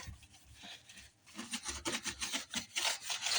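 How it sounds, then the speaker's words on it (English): Scrubbing dishwasher parts with a soapy scrub pad, a quiet rasping rub that starts soft and grows into steady back-and-forth strokes, close up with no talking. "I'm gonna use my scrub pad."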